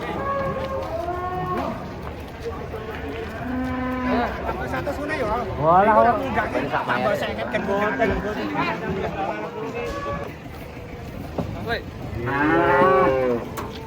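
Several cattle moo repeatedly, overlapping one another, as they are unloaded from a truck, while people chatter and call out in the background.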